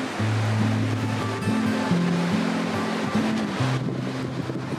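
Ocean waves roll in on the Portugal coast, a steady broad wash of surf with wind rushing over the microphone, continuous and loud throughout with no talking.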